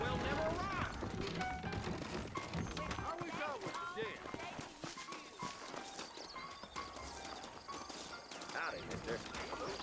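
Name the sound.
horses trotting in video game Red Dead Redemption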